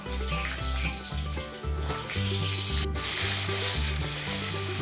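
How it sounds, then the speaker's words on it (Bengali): Potato pieces frying in hot oil with panch phoron, dried red chilies and bay leaves in a Bengali home kitchen, a soft steady sizzle beneath prominent background music. "এবার তেল গরম হয়ে গেলে পাঁচফোড়ন, শুকনো লঙ্কা ও তেজপাতা দিয়ে দিল। এবার আলুগুলো দিয়ে দিল।"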